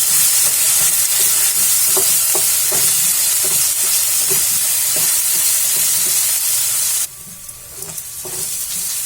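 Red chili powder roasting in a hot pan for dal makhani, a loud continuous sizzle with rhythmic ladle taps and scrapes, then the hiss abruptly drops away near the end, leaving quieter scraping.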